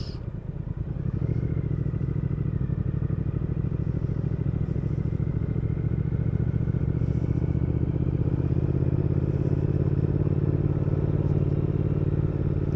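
A 2019 Triumph Speed Twin motorcycle being ridden, its twin-cylinder engine a steady low rumbling throb that settles into an even drone after a brief start, heard close and continuous without speech.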